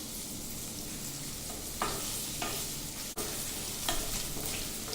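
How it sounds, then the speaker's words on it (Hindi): Paneer lightly frying in a pan for Kashmiri pulao, an even, dense sizzle heard close up, with a couple of brief surges and a short dip partway through, no voices. "पनीर को भी हल्का फ्राई करेंगे।"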